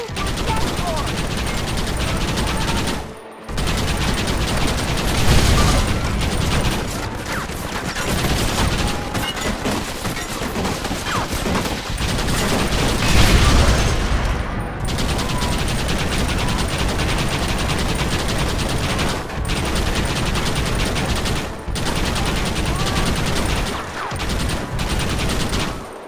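Heavy gunfire aimed at a platform in the Western video game Red Dead Redemption: loud, dense volleys of rifle and machine-gun shots rattle almost nonstop, broken by a few brief pauses.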